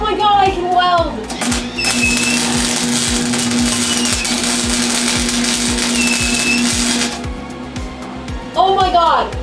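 Steady crackling hiss of a welder working on the engine bay of a 1984 Corvette, a sustained buzz lasting several seconds, loud and close, with a person talking excitedly before and after.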